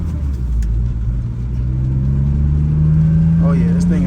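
A BMW E36 M3 engine idles and hums steadily at a rainy-day car meet, a low continuous drone with a slight rise in pitch toward the end, and voices can be heard over it near the close.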